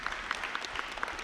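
An audience at a community planning presentation claps steadily, a dense patter of hands with sharp individual claps standing out, moderately loud and unbroken.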